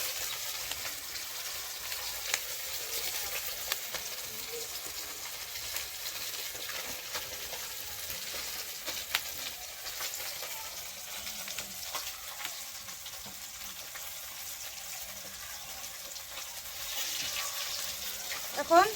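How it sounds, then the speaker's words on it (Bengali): Fish sizzling in a hot frying pan in a home kitchen, a steady crackling hiss that runs evenly throughout with small pops and no one speaking. "এদিকে আবার মাছ ভাজা হবে"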